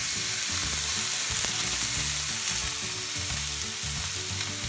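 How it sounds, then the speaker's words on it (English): Ground beef for sloppy joes fries in a pan with a loud, steady crackling sizzle, alongside irregular low thumps and scraping as the meat is pushed and stirred. "we're going to put the beef in a pan"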